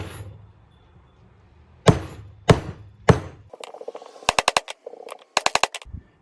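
Socket tapping a front fork seal into place on a Honda ATC250SX, heard as three heavy thuds followed by quick clusters of sharp metallic raps, close and loud.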